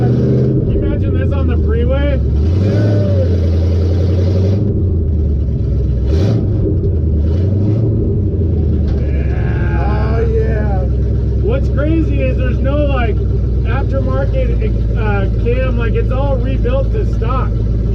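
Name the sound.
Built Tough 1776 truck engine revving, exhaust headers kicking in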